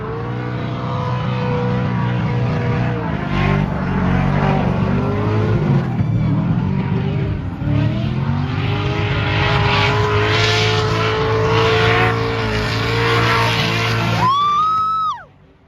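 A race car runs a lap at a Salt Lake track during a pro-am drift competition, its engine loud and close throughout with steady high revving and pitch swings through shifts and slides, then a sharp rising whine before it cuts off.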